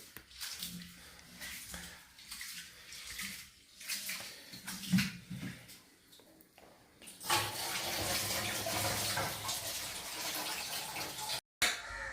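Water splashes and runs steadily as beef and rice are washed, with broken sloshing and swishing early on, then a fuller continuous rush of washing water near the microphone.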